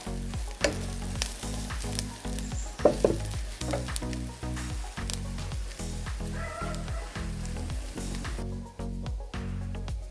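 Soya fried rice mixture being stirred in a hot pan, a constant loud sizzle of frying broken by regular scraping strokes of a spatula against the metal.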